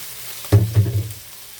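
Meat is added to softened tomatoes in a hot pan and starts frying, a sudden loud sizzle with a few stirring scrapes that quickly settles to a quieter simmer, close by.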